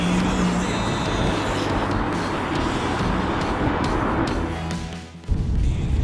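A British Aston Martin V12 driving through busy city streets, a smooth loud engine drone heard from inside the cabin with shifting revs and a brief dip before surging again, with someone talking over it.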